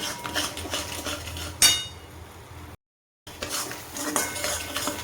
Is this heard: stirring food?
yes